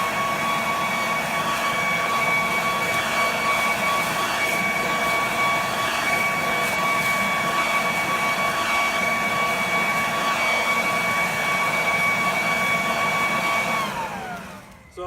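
A cordless WG507 3-in-1 leaf vacuum, mulcher and blower runs at a steady high-pitched whine with a rushing airflow, loud and close, before spinning down abruptly at the end.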